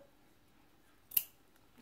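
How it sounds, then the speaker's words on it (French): A pair of scissors cuts a small ribbon in two with one crisp, close snip against an otherwise quiet room. "Donc, je coupe mon ruban en deux"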